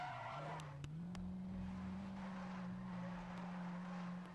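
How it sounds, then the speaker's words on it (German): A car drifting in the Need for Speed Most Wanted 2012 video game, with a long sustained engine drone and tire squeal holding steady throughout the slide. "So, jetzt aber im Drift."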